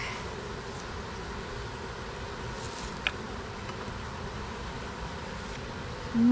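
Honey bees buzzing in an opened backyard hive during a frame inspection, a dense continuous drone that stays close and steady with no voices over it.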